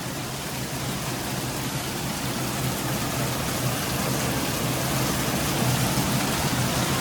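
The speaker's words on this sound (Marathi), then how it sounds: "पाऊस बघा काय भारी आलाय." Heavy rain falls outside at a resort in the Malshej Ghat, a dense, even hiss that stays steady and fairly loud throughout.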